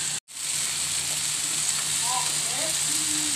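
Food sizzles steadily in a pan while dinner is cooked at home, with eggs about to be added; a constant close frying hiss fills the clip, broken by one brief gap near the start, with faint clinks of stirring.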